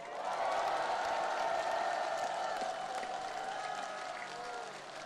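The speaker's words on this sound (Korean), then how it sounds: "옆을 돌아보면서" A large crowd at a Korean political rally in Dangjin applauds in a sustained roar of clapping with cheering mixed in, steady and distant-sounding throughout.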